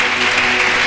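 Congregation applauding at a church service, a steady wash of clapping from many hands, dense and continuous throughout with no voices standing out.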